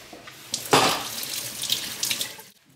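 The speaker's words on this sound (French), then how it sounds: "Et je vais les passer sous l'eau." Leeks rinsed under a running kitchen tap, water splashing and spattering unevenly against the vegetables and sink for a couple of seconds before cutting off, close and clear with no voices.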